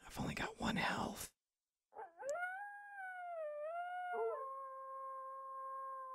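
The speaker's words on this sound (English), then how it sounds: "There's dogs everywhere. They want to bite me." Dogs in the video game SurvivalCraft let out a long, wavering howl with clear tonal harmonics that shifts pitch midway and holds steady, preceded by a brief burst of noisy rustling and a short silence.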